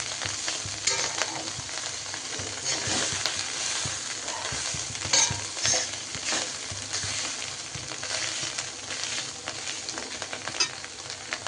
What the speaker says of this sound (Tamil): இந்த சைட்லலாம் வந்து எண்ணெய் இது பபிள்ஸ் மாதிரி வருது.